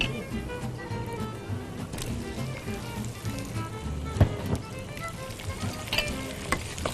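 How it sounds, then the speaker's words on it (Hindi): Potatoes frying in a pan with whole spices such as black cardamom for chicken kurma, a steady crackling sizzle with scattered pops and light clatter throughout. "आलू के साथ इसको फ्राई करेंगे जरा"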